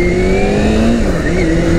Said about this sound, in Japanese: さあこれでエンジンのかかりもいいです。